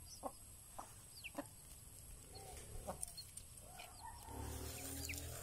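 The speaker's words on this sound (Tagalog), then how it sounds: "Busog na busog yung mga manok natin" Native chickens cluck in short soft bursts against a quiet farmyard, with a few sharper calls and a faint, rising background hum toward the end.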